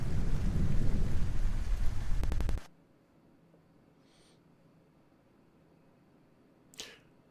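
Rain and rolling thunder in Kerbal Space Program roar loudly for a couple of seconds and then cut off sharply, leaving near silence broken by a short faint burst and a brief louder noise near the end.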